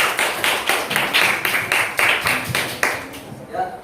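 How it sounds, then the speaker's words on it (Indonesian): Students in a classroom clap for a classmate, a run of roughly a dozen brisk, fairly close claps in a steady rhythm that fades toward the end, with faint voices underneath. "Tepuk tangan Mas Hafiz."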